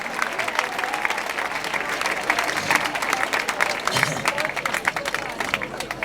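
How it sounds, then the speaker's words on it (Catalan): Audience applause for a band at a comedy show on a football field in Carcaixent, a steady wash of clapping with some crowd voices, moderately distant and continuous. "Un aplaudiment per la banda"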